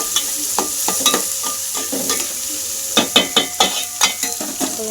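Onion sizzles in a pan of hot oil with cumin, a steady close fry broken by sharp scraping clicks of a spoon stirring against the metal, with a busier run of stirring near the end.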